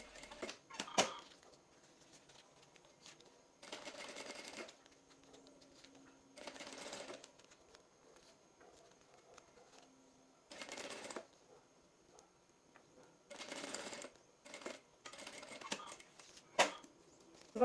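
A sewing machine topstitches a seam right along the edge of turned fabric, running in several short, faint bursts separated by quiet pauses.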